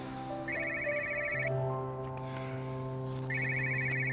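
A mobile phone rings with an incoming call, its electronic ringtone coming in two bursts with a gap between, fairly quiet over a low background hum in an indoor scene.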